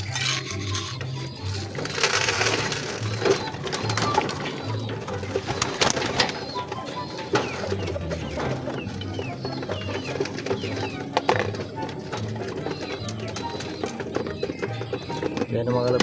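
Racing pigeons arriving at a club training release in Calinog, Iloilo, with low rhythmic cooing repeating steadily throughout, mixed with wing flutters and shuffling. Voices talk over the birds.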